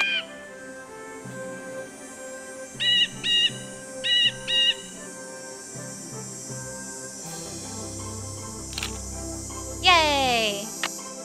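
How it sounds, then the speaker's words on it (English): In the Nancy Drew game Ghost Dogs, a blue jay's call repeats in a few short, bright chirping bursts over steady game music, followed by a swooping fluttery call near the end. "We do need blue jay."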